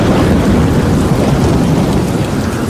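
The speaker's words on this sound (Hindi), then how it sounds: "बहुत जोरदार बारिश हो रही है" Heavy rain pouring down in a loud, dense, unbroken hiss with a low rumbling underneath, close and constant throughout.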